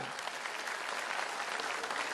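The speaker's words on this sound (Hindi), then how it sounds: "जरा उत्तर प्रदेश वाले अपने लिए जोरदार ताली बजा दीजिए एक बार" An audience at a BJP gathering in Delhi's Aiwan-e-Ghalib hall claps loudly on request, a dense, steady wash of applause filling the short moment.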